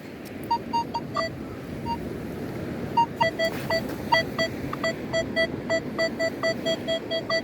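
A metal detector sweeps over a beach target, giving short repeated electronic beeps and tones in an uneven rhythm over steady surf-like background noise.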